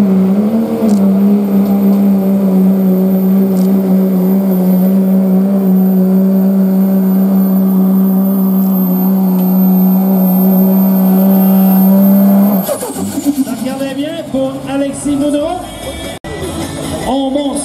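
A pickup truck engine drones loud and steady at a truck pull, then surges into harsh, rising revs as the load starts moving, close to the microphone.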